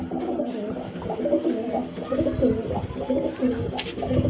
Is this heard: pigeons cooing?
yes